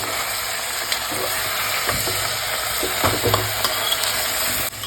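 Ginger, garlic and green chilli paste with cumin sizzles steadily in hot oil in a pan for chicken stew, with repeated light stirring and scraping strokes; close, continuous frying that cuts off near the end, no voices.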